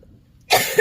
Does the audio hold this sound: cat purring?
no